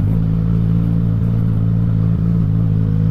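A remapped Yamaha MT-09 motorcycle idles loud and close with a steady low engine drone, rough and uneven throughout, with slight dips but no distinct pops or bangs standing out.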